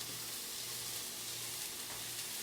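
Onions and garlic, seasoned with a little salt, sautéing in a pan for spaghetti sauce, giving a steady, close sizzle with a faint stirring texture throughout and no talking.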